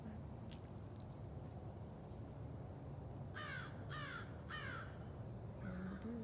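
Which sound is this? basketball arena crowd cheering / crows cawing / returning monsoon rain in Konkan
crows cawing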